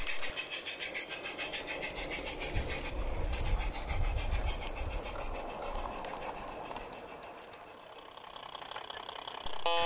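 A model steam train on the Peckforton Light Railway, a down afternoon mixed working toward the foot of Gallantry Bank, gives a continuous close chuffing and mechanical rattle that swells midway, eases and then lifts again near the end.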